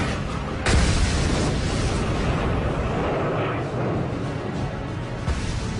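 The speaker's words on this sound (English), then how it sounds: "I paused in wonderment, and then heard an explosion." An explosion in a World War II tank battle at the Hochwald Gap: a loud, sustained roaring rumble with a sharp burst near the start that stays dense throughout.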